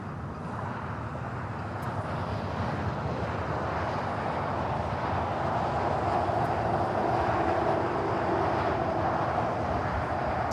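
An Air Canada airliner takes off from LAX runway 25 right, a broad, distant jet roar rising steadily and mixed with wind noise, continuous for the whole stretch.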